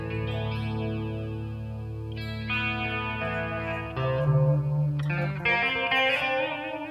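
Overdriven electric guitar through a Soldano SLO Super Lead Overdrive pedal with delay engaged, sustained chords and notes ringing with repeating echoes, loud and close with no talking.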